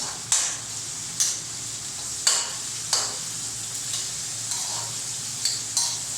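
Pork and chili are stir-fried for Thai basil stir-fry on a DIY gas burner: a steady sizzle under repeated sharp scrapes of a spatula against the pan, roughly one stroke per second, close and clear.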